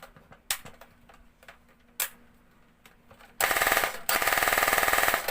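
An airsoft P90 fires on full auto, a fast continuous rattle of shots in two bursts after a few scattered clicks and handling noises, close and loud.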